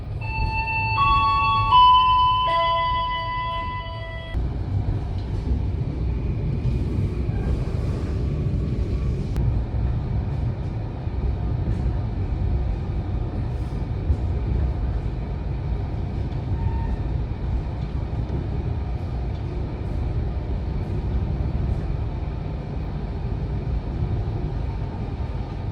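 The Argo Merbabu passenger train slows into the station, heard from inside as a steady low rumble of wheels and carriage, with a short chime melody at the start.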